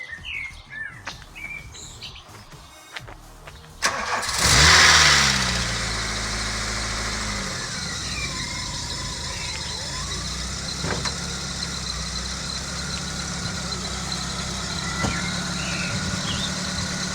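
A Volkswagen Golf MK2 engine cranks and fires up, then settles into a steady, smooth idle close by, with birds chirping in the background throughout.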